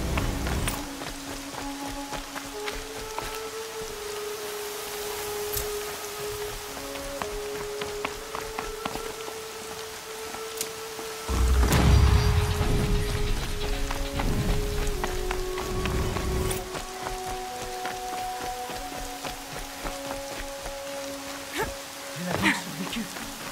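Steady rain patters on surfaces during a storm in Horizon Zero Dawn, with a low rumble of thunder swelling partway through while music and occasional voices play over the downpour.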